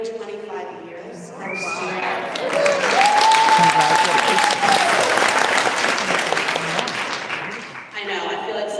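An audience at a corporate morning event breaks into applause that rises and sustains for several seconds, with a few whoops and voices mixed in before it tapers off.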